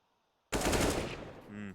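Counter-Strike AK rifle gunfire on the Nuke map erupts suddenly after near silence, a loud rapid burst lasting about a second, followed by a quieter trailing rattle.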